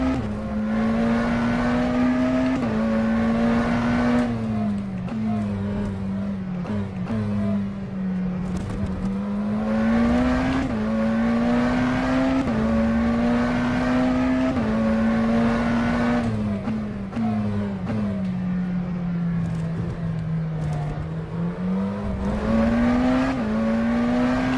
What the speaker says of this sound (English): So I'm getting on the accelerator now, and it just kind of nicely swings the rear end around